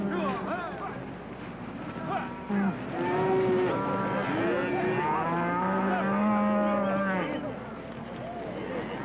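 Cattle low repeatedly in long, drawn-out moos from a herd outdoors, with people talking over them, in an old western film soundtrack with a muffled, narrow tone.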